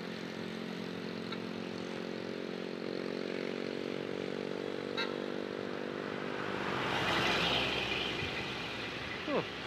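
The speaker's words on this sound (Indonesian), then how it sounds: "Anginnya kenceng juga itu truk," A truck rumbles past on a city road, its low engine drone steady and close before a broad whoosh of air swells as it goes by, with a voice heard faintly over the traffic noise.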